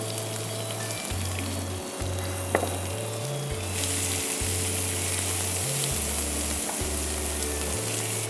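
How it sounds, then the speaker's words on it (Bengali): Onion sizzles steadily in about three tablespoons of hot oil in a pan, a continuous frying hiss with occasional stirring, close and alone, with a steady tonal background hum. "পেঁয়াজটা একটু লাল হওয়া পর্যন্ত আমরা একটু ভেজে নিব।"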